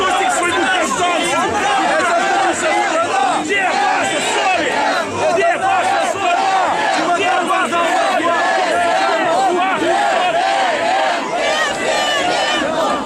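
A large angry crowd outside the Odesa regional administration building shouts and chants continuously, a dense, loud roar of many voices with no pause throughout.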